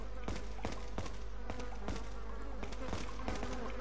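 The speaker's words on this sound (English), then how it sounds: "So we can hear flies buzzing." Flies buzzing in the video game Resident Evil 4, a steady, close insect drone with regular pulsing swells and no talk over it.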